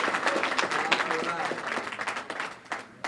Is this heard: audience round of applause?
yes